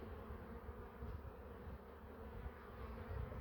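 Honeybees buzz around an opened hive during a spring inspection, a close, continuous droning hum with no voices.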